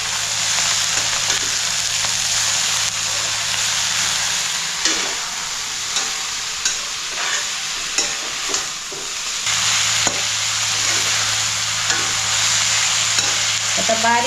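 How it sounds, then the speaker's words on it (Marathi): A spoon stirs softened vegetable curry in a hot pan, sizzling and frying steadily while the utensil scrapes and knocks against the pan in repeated strokes, close and loud, with no talking. "आता चांगली ढवळून घ्यायची."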